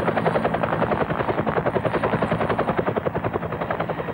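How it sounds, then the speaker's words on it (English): A Metropolitan Police helicopter over Saddleworth Moor, its rotor chopping in a steady rapid thump with a loud engine whine throughout, close and continuous. "The helicopter on the video is a Met Police helicopter"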